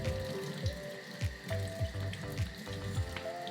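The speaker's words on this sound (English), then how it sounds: "I'm going to remove this and wash it with warm water too" Warm tap water runs over the steamer part of a Bissell Symphony vacuum and steam mop being washed in a sink, a close, steady splashing stream broken by a few sharp knocks and clatters, with no voices.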